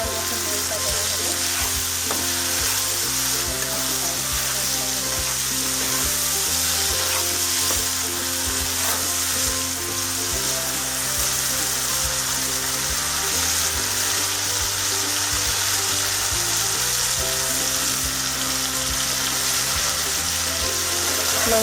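Chicken pieces fry and sizzle steadily in a pan while being stirred for a Bengali-style chicken with banana flower dish, with no talk and continuous loud crackling throughout.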